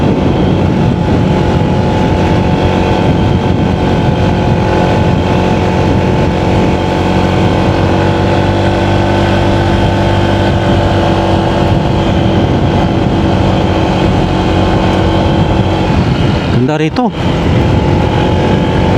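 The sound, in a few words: motorcycle riding on road after river crossings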